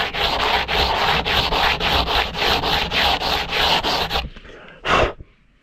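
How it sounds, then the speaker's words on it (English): A carbon fiber kayak hull is sanded by hand to prepare it for a repair patch. Loud, close, rhythmic rasping strokes repeat steadily for about four seconds, then stop, followed by one last short scrape. "I'm going to sand down a little bit."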